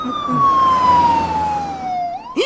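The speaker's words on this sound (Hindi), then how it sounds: "आ तो एम्बुलेंस छे" An ambulance siren wails nearby, a single long tone sweeping slowly downward before breaking into a short rising whoop at the end.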